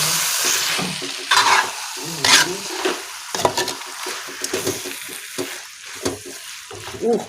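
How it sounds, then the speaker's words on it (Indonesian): Chopped honje (torch ginger) is stirred in a hot cooking pan, a steady sizzle broken by repeated scraping strokes of the spatula. "Lalu honjenya dimasukin. Terus diaduk-aduk."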